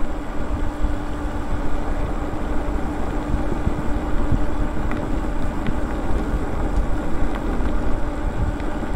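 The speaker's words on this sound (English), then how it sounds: "Lots of traffic all the time." Dense traffic on a busy highway rolls past, heard from an e-bike at night as a steady broad roar and rumble of passing vehicles with no clear gaps.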